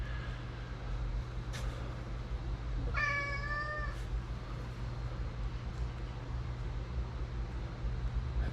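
Cat giving a single clear meow at moderate distance over a steady low indoor hum, with a couple of faint clicks nearby and no speech.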